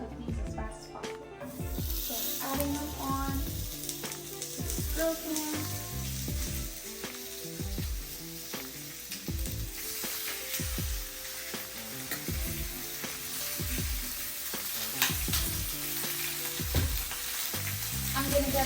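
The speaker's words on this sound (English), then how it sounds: "I will be grilling our lamb loin" Lamb loin sizzles in olive oil on a grill pan, a close crackling hiss broken by regular scraping and knocking sounds at a steady pace.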